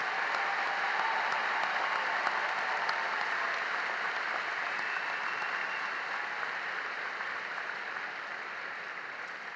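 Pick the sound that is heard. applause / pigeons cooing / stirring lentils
applause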